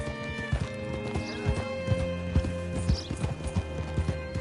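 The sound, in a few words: horse hooves clip-clopping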